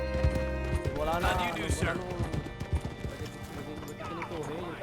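Horse hooves clip-clop in the Red Dead Redemption 2 video game, with a steady run of near hoofbeats under continuous talk and game dialogue, plus a brief whinny-like sound.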